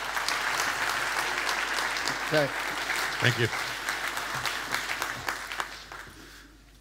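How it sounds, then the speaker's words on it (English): A room full of audience members applauds for a speaker at an innovation conference, steady dense clapping that carries on under a brief spoken thanks and then fades out. "big round of applause for Mr."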